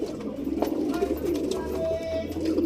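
Domestic pigeons kept as a hobby coo softly and repeatedly in their loft, with low, throaty calls over a steady background murmur.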